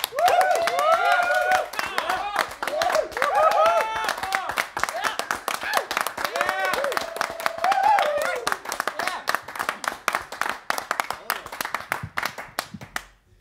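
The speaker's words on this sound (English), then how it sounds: "But this is our applaud for you." Jazz band members clap for their audience at the Schaffhausen jazz festival, a close burst of sharp handclaps mixed with loud whoops and cheers that thins out toward the end.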